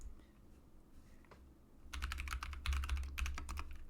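A command is typed on a computer keyboard: after a quiet start with a single tap, a rapid run of crisp key clicks fills the last two seconds, close and clear.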